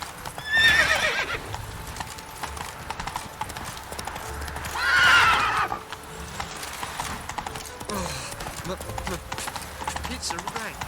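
The horse Roach in The Witcher 3: The Wild Hunt gallops with rapid rhythmic hoofbeats, letting out two loud whinnies early and midway, with faint game voices and effects in the background.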